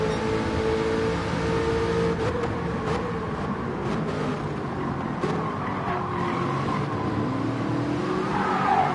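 A GR4 race car in a racing game runs hard around a track, its engine droning close and loud while tires squeal and skid through the corners.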